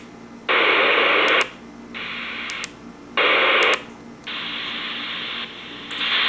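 A President Randy 2 hand-held CB radio hisses out bursts of static that switch on and off in blocks, loud hiss alternating with quieter noise and faint clicks between.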